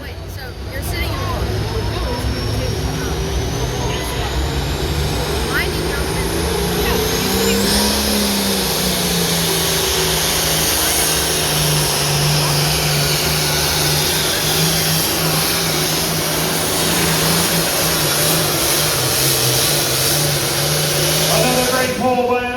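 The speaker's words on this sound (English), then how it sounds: "Another great pull by an Alice Chalmers tractor, past 300 feet, probably past 310 feet." An Allis-Chalmers tractor engine roars steadily and loudly throughout a tractor pull at the Columbiana County Fair in Lisbon, Ohio, with a constant droning rumble and no pauses.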